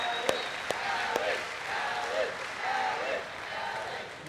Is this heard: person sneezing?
no